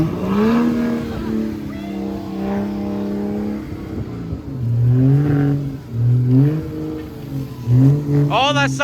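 A car engine revs hard and steadily while stuck in snow, its tone rising and falling across several loud bursts, with a brief squeal near the end.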